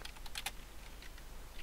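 Quiet keystrokes on a computer keyboard, a quick cluster of close taps followed by sparser, fainter presses, with no voices.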